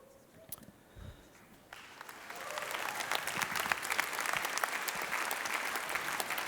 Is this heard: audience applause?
yes